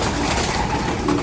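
Pigeons cooing in a loft aviary, a steady close murmur of soft coos over a dense, continuous background.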